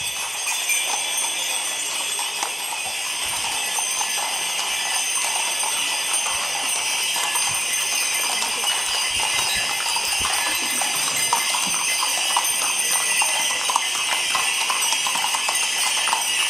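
A horse walks at the head of a religious procession for the Madonna delle Grazie in Ilbono, its hooves clip-clopping in an even rhythm under a broad outdoor hiss, with faint jingling.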